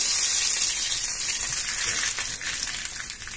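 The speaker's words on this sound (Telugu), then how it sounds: "ఇప్పుడు మనం దోసకాయ పప్పులోకి తాలింపును వేసుకుందాము" Hot tempering hisses and sizzles steadily as it is poured into cucumber dal, the crackle fading a little toward the end.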